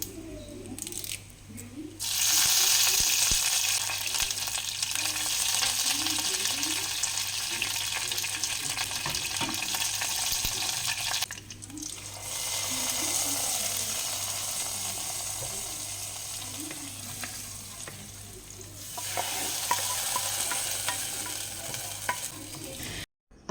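Mustard seeds, dried chillies and curry leaves sizzle and crackle steadily in hot oil for an Onam moru curry, with stirring and occasional clinks, loud and continuous with brief dips.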